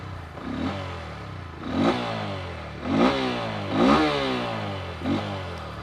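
A Bajaj Pulsar N125 motorcycle's 125 cc engine idles close by and is blipped five times, each rev rising sharply and dropping back to a low, smooth, deep-toned idle.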